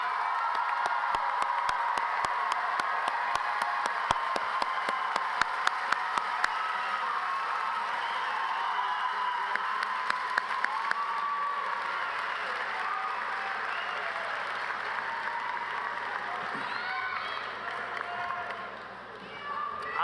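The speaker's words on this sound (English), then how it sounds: "Let's give our graduates another round of applause" Sustained audience applause for graduates at the SUNY Broome 2024 commencement ceremony, a dense steady wash of many hands clapping with scattered sharper claps and crowd noise, fading slightly near the end.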